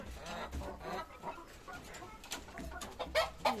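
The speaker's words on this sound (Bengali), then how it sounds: "এই হচ্ছে আমার দেশি মুরগির বাচ্চা মোরগ" Native desi chickens and young roosters cluck and chatter nearby in a farmyard, with overlapping bird calls that come and go in irregular bursts.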